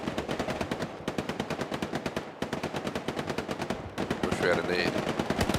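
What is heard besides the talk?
machine gun fire in video game Hell Let Loose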